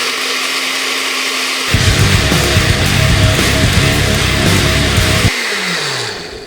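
A blender whirs through soaked almonds in water, at a ratio of one cup of nuts to four cups of water; the loud motor roar kicks in after a soft hum, runs about three and a half seconds, then winds down.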